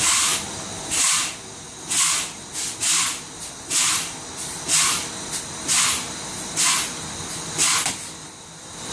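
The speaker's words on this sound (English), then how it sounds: "I'm gonna keep popping the service brake until my parking brake pops up between 45 and 20 psi." Truck air brakes hiss in sharp, loud bursts about once a second during a spring brake pop-out test, each release a brief broadband spray of air with short gaps between.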